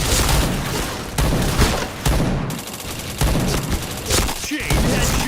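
Rapid bursts of gunfire from a shooter video game, with dense overlapping shots and booms filling the whole stretch, loud and continuous with brief dips.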